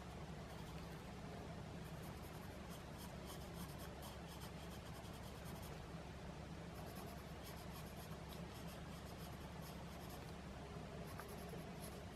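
Graphite pencil moving across paper in a quiet room, a soft, faint, continuous scratching and rubbing of strokes that runs unbroken for the whole stretch, with no voices.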